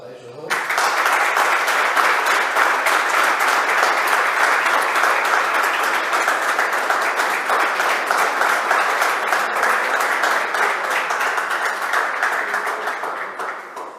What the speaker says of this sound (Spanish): Primero le voy a pedir un aplauso para ellos dos.